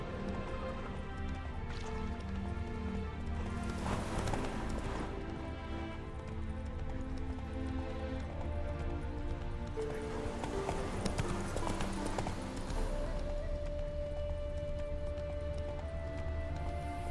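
Clip-clop of a horse's hooves at a steady gallop along a road in The Witcher 3, a rhythmic, continuous beat running throughout with a dense game soundtrack layered over it and no talk.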